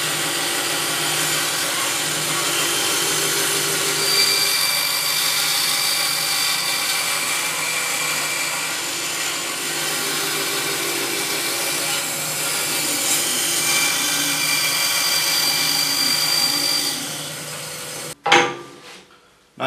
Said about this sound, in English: I'm going to pull the blade and the wedge out and go over to the bandsaw and shape this out.